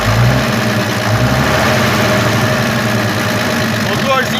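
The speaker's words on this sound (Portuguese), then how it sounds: "A lenta do Alfa, depois que esquenta, é isso aqui" An FNM 180 truck diesel engine idling after warming up, following three years parked, a loud steady close rumble with even throbbing pulses throughout.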